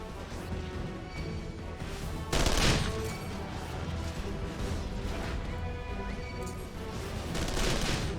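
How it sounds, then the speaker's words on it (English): Rapid gunfire and energy-blast effects from combat in the video game Final Fantasy XIV, with a loud burst around the middle, dense and continuous over busy game sound with no talking. "You got your little machine gun or energy blast."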